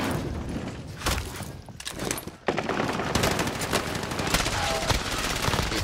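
Rapid bursts of gunfire from an online multiplayer shooter match, loud and dense automatic fire rattling continuously with sharp single shots cutting through, while players chat over it.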